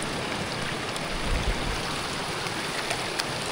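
Cold water from a mountain stream rushes in a steady broadband wash, close and continuous with faint splashes and no voices over it.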